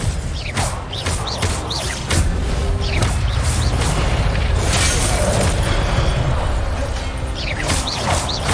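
Spells cast in the Hogwarts Legacy video game burst out as a rapid series of booming blasts, whooshes and crashing impacts, loud and dense, layered over a continuous rumbling game backdrop with no speech.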